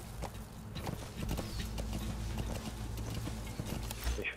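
Horse hooves clip-clop steadily in Metal Gear Solid V: The Phantom Pain, a brisk, close run of regular hoofbeats over a constant low rumble, with no voices.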